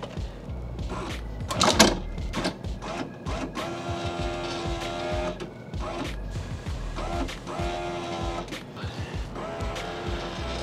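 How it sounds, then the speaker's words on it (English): A Land Rover Discovery 1 power window regulator lowers the window with a steady electric motor whir and faint mechanical grinding that runs for about ten seconds after an initial clunk, close up and fairly quiet. "Let's drop the window regulator all the way down."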